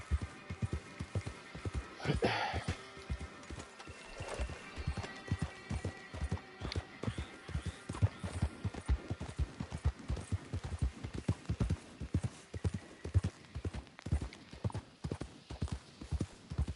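Horse galloping in Red Dead Redemption 2, a long, steady run of rhythmic clip-clop hoofbeats at close range with a brief whinny-like sound early on, continuing at an even pace.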